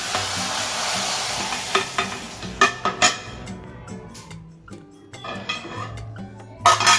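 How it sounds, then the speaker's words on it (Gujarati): Hot tempering with dried red chilli is poured slowly into sambhar, giving a loud sizzle followed by stirring and clinks of a pot and spoon, with no talk over it. "વઘારમાં આ રીતે આપણે સૂકું લાલ મરચું થોડું નાખી અને આપણો વઘાર આપણે ધીમે ધીમે અંદર રેડીશું."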